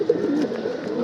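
Pigeons kept in a small loft give soft, continuous low cooing, a steady close murmur of several birds with no talk.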